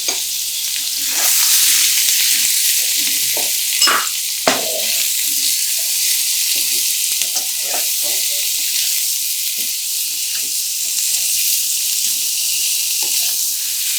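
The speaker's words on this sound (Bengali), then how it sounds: "তেল গরম হয়ে গেলে আমি আলুগুলো ভাজতে দিলাম।" Potatoes frying in hot oil with turmeric and salt, a steady close sizzle with intermittent stirring clatter running throughout, no voices.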